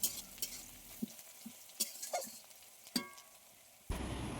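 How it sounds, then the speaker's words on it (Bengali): Onions frying in a pan after potatoes were browned, with soft sizzling under intermittent sharp clinks and scrapes of a stirring utensil against the pan, close and moderately quiet, with a louder burst of sizzle near the end. "আর এরপরে আমি একটু পেঁয়াজটা ভেজে নিচ্ছি।"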